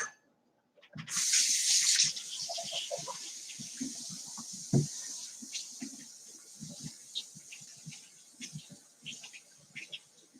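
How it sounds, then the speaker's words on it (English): Water from a kitchen faucet runs steadily as hands are rinsed beneath it, a loud splashing burst at first that settles into a softer stream with small clatters and splashes, close by and with no talk. "I'm going to rinse my hands off."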